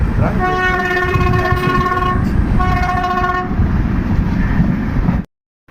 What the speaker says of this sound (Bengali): আমাদের ট্রেন দীঘা স্টেশন ঢুকছে